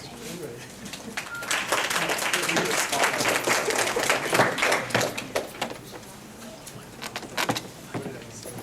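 An audience claps to welcome Dr. Barber, a psychologist, at a lecture on neurocognitive disorders. The applause swells to a full, dense patter, then thins into scattered claps, with faint voices underneath.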